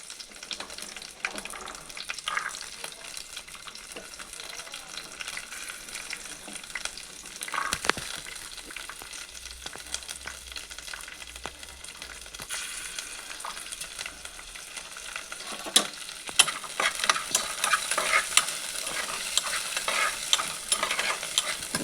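Green chillies and peas fry in a pan, giving a steady close sizzle with stirring scrapes, brief splashes of running water and a livelier crackle toward the end.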